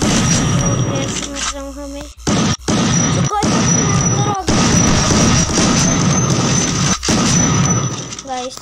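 Roblox gameplay gunfire as a dense, continuous barrage of shots and booms at close range, broken by a few brief gaps, with a game tone running over it and no talk.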